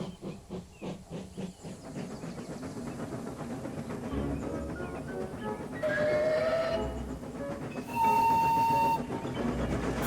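Steam train pulling into a big station, with rhythmic chuffing at first, then steady hissing steam, rumbling rail noise and two clear whistle blasts near the end.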